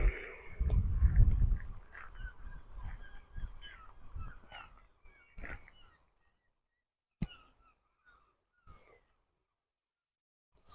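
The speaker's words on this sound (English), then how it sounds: "seagulls are very noisy here." Seagulls call noisily at the fishing harbour in Arbroath, with a burst of harsh cries up close early on, then scattered calls that thin out and fade into quiet.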